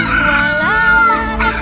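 A loud chicken clucking sound effect with a cartoonish, tonal quality, running continuously for under two seconds over a dense musical background.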